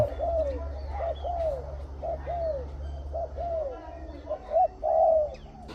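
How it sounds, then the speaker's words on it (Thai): A Thai decoy dove coos steadily and repeatedly, with a run of rhythmic cooing phrases heard close up over a low steady background hum. "นกมันจีนจะจะเริ่มเรียกเริ่มคู"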